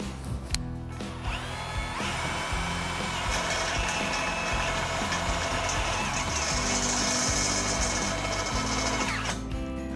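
A power drill whirs steadily for most of the clip, close and loud, starting and stopping with a sharp motor whine.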